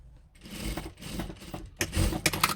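A sewing machine stitches a quilted jacket in short rapid mechanical bursts, the motor whirring and needle clattering close by, starting and stopping in quick runs.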